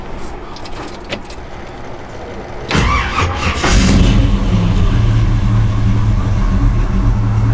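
Keys jingle faintly, then a 1949 GMC truck engine turns over and starts, settling into a loud, rumbling idle nearby.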